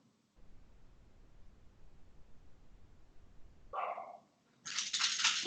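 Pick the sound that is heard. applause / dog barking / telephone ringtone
dog barking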